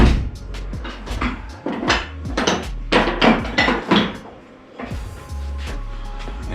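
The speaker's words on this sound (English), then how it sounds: "I need to switch into maybe some tighter hammers here" Sheet metal on the passenger-side bed fender of a 1949 Jeep Willys pickup is shaped with a hammer, a rapid run of loud, ringing metallic blows close by, pausing briefly before resuming.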